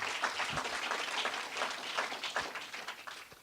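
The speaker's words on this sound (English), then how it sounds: "That merits applause, I think, yes." A crowd applauding, steady clapping from many hands at moderate distance, lasting several seconds with no one speaking.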